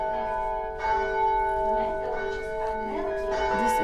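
The bells of the Bell Tower in Perth, Western Australia, ring out in a sustained, overlapping peal. Tones are struck one after another over a steady resonant hum, loud and near, with no speech.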